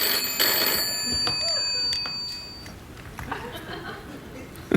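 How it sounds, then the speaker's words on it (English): A telephone rings with bright, repeated trilling bursts on a late-night talk show set, over a murmur of studio noise and faint laughter, fading after the first few seconds. "phones ring."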